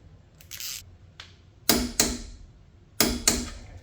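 A torque wrench tightens a bolt on an electric bike rack, giving two pairs of sharp metallic clicks close up, with softer ratcheting sounds before them.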